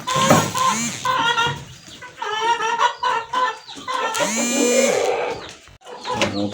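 Kienyenji chickens cluck and squawk close by on a poultry farm, a busy, continuous chorus of overlapping calls with no talk.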